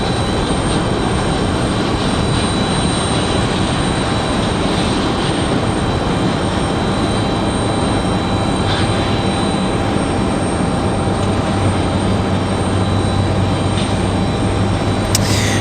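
Southwest jet airliner taking off at Raleigh Durham, a loud, sustained engine roar with a whining tone running through it, constant and close for the whole stretch with no voices.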